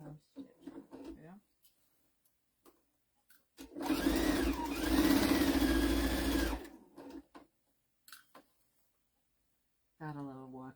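A sewing machine with a walking foot stitches a basket towel in one steady, loud burst of about three seconds, with someone talking briefly before and after.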